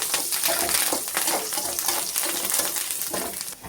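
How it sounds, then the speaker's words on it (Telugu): Curry leaves fry in hot oil with salt in a pan, giving a dense, loud, continuous sizzle with bursts of crackle and spatter close by, no voice over it. "ఇప్పుడు కరివేపాకు వేసుకుంటున్నా. కరివేపాకు కూడా కొంచెం వేగాలి."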